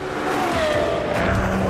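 A Lexus LFA hypercar wails at high revs, its engine note screaming and sweeping in pitch with a touch of tyre noise, loud and close throughout.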